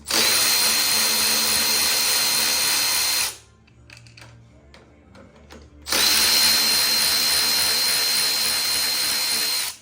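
A power tool unbolts the carburetor intake on a Craftsman lawn tractor, running loud and steady close by, pausing briefly for a few seconds of faint clicks and handling noise, then whirring again at full strength.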